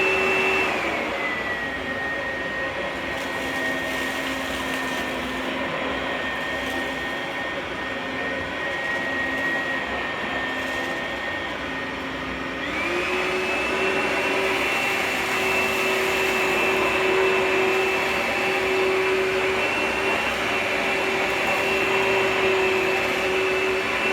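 An Oreck Magnesium RS upright vacuum cleaner runs continuously, a steady motor whine and airy roar that shifts to a higher pitch partway through as the speed rises, with no talk.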